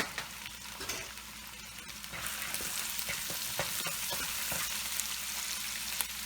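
Vegetables sizzle steadily in a hot pan while being stirred for a vegetarian stir fry pasta, with scattered scraping clicks from the utensil over a constant loud frying hiss.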